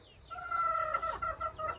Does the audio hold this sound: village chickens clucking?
yes